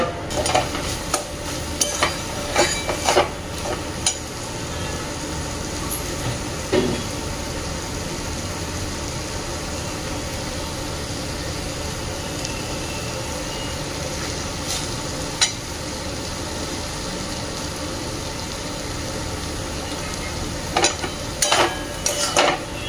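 Paneer bhurji with vegetables sizzles steadily in a pan while a utensil stirs and scrapes it, giving a constant close hiss broken by sharp clinks and scraping strokes, with no voices.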